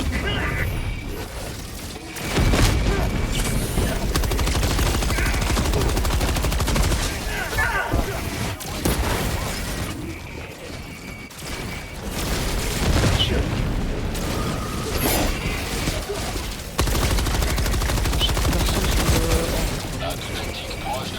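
Grenade blasts and rapid gunfire from a shooter video game, with dense overlapping booms and bursts throughout while players talk over the action.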